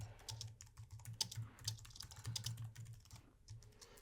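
A question being typed on a computer keyboard, with a close, quick and uneven run of soft key clicks over a quiet room.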